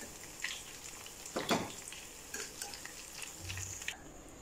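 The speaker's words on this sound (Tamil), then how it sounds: "எல்லா மீல் மேக்கரையும் எண்ணெயில பொரிச்சு எடுத்துக்கங்க" Soya chunks (meal maker) fry in hot oil for soya 65, giving a soft continuous sizzle broken by several scraping stirs of a spoon against the pan, close and moderately quiet.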